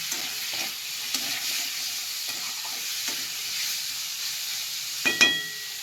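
Sliced capsicum and onion tossed and stirred in a hot frying pan for a chicken roll filling, a continuous light sizzle broken by intermittent scraping strokes and a couple of louder metallic clinks near the end.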